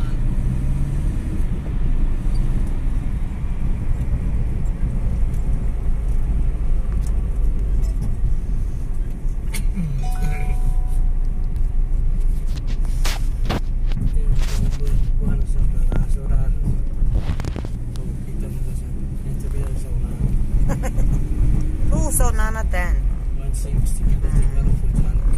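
Road traffic rumbles steadily as cars and other vehicles pass close by, with heavy wind buffeting the microphone throughout and people talking over the noise.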